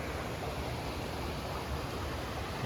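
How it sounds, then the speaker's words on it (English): The low-running River Glaslyn pours over rocks near Nantmore, a dense, steady close rush of water with no pauses. "It flows down there through rocks,"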